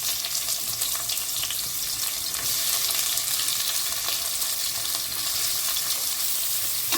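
Sliced big onions dropped into hot oil already holding cinnamon and cloves, frying for a vegetable biryani: a steady, dense sizzle and crackle that stays loud and even throughout, with occasional stirring scrapes and no voices.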